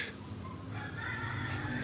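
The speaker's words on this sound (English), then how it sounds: "Roosters right outside the window there." Roosters crowing outside a window on a morning in the Philippines, a moderately loud call rising across a couple of seconds over low background hum.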